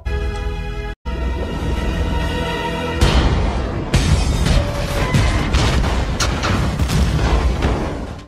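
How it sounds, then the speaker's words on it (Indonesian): A loud, sustained explosion roars out in a film scene, with a brief dropout near the start followed by a heavier blast and continuing rumbling bursts and crackling debris throughout. "ledakan pun terjadi"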